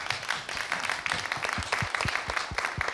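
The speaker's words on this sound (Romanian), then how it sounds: "Aplauze." A studio audience applauds on a Romanian television entertainment show, a dense, steady wash of clapping that holds evenly throughout, with faint voices beneath it.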